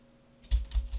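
Three soft keystrokes tapped on a computer keyboard, close and fairly quiet, with no voice over them.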